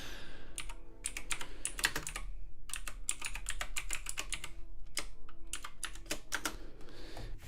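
Typing a chat message on a computer keyboard: close, continuous bursts of clattering keystrokes with brief pauses between words, heard alone without talk.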